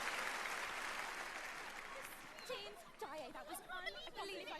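Theatre audience applauding at a Phantom of the Opera performance, a dense wash of clapping that fades slightly as voices begin talking over it toward the end.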